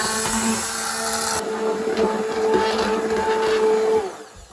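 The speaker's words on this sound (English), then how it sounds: "I'm going to now start to puree this" A blender purees cooked, tender vegetables with a steady, loud motor whir and grinding churn that runs for about four seconds and then winds down.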